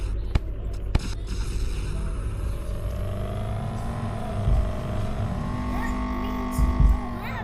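Cars drive in the Animal Company video game, a steady engine drone that rises and falls in pitch as they accelerate, with a few sharp knocks and thumps and people talking over it.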